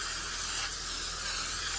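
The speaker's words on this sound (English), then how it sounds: "I have to spray the bottom of this pan" Cooking spray hisses steadily in one continuous burst, close and fairly loud, as it coats the bottom of a baking pan in a home kitchen.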